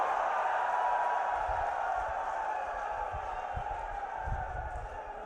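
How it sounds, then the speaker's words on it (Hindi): A large crowd at an election rally in Churu claps and cheers to welcome Rajendra Rathore, a dense, continuous roar of applause with low thumps mixed in. "जोरदार तालियों के साथ राजेंद्र राठौड़ साहब का स्वागत अभिनंदन करें।"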